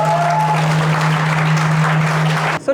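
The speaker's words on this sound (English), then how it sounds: "you can just clap for me" Audience applause at a presentation session, a steady dense wash of clapping from a crowd held for nearly three seconds at close range, a faint sustained tone beneath it, cutting off abruptly at the end.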